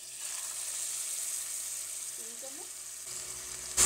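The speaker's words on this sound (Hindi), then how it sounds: "अब इसमें हम अदरक लहसुन का पेस्ट डाल देंगे" Ginger garlic paste sizzling in hot oil, an even, moderate hiss close by, with a brief faint voice in the middle.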